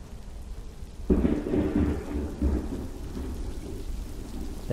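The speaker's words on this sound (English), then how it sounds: "we're getting a thunderstorm here. I just heard thunder." A deep rumble of thunder rolls in over steady rain, swelling suddenly and lingering with a second rumble before settling into a continuous downpour.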